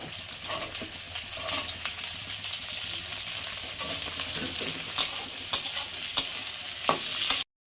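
Green beans, ginger, garlic and green chilli fry in a pan for egg chilli, a continuous close sizzle with stirring, then several sharp spatula knocks near the end.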